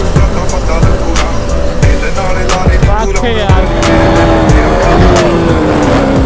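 KTM motorcycles, an RC390 and a Duke 200, revving hard during full-power wheelies before a crowd, heard as a loud, close engine roar with rising and falling pitch sweeps as the throttle opens and closes.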